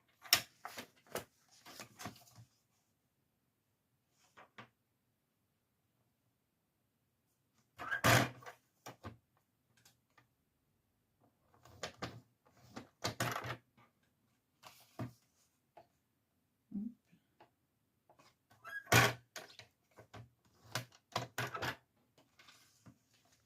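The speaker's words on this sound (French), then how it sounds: "On marque ses plis avec le massicot." A paper trimmer (massicot) scoring fold lines into cardboard for a Christmas carousel box, giving sharp, separated clicks and scrapes in short bursts with quiet gaps between them, close by in a quiet room.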